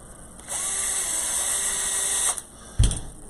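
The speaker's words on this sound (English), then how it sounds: "Don't use cordless screwdriver to tighten down" A cordless screwdriver whirs steadily for about two seconds while driving differential housing screws on a B7 Turf, stopping short, followed by a single sharp clunk; no voices.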